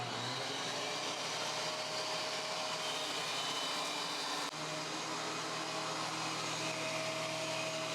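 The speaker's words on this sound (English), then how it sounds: "The planer's still loud." A DeWalt DW735 thickness planer fitted with a helical cutter head, motor running idle: a loud, steady whining drone with a constant hum, close by, shifting pitch slightly midway, with no cutting and no talk.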